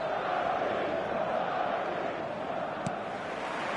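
A stadium crowd in the eFootball 2025 football video game roars steadily as a dense, continuous wash of cheering that stays level throughout, broad and distant-sounding.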